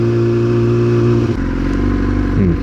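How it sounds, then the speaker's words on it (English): Road traffic with cars and motorcycles passing nearby, a loud steady engine drone whose pitch shifts midway as one vehicle gives way to another. "There's the traffic."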